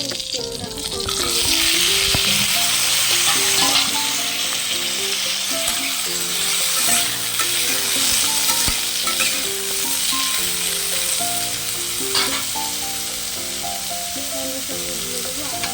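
Green chillies and a bay leaf frying in hot oil for a Behari-style sukto, a loud, steady sizzle and crackle running the whole time over quiet background music.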